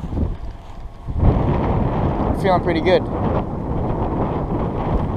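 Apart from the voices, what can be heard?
wind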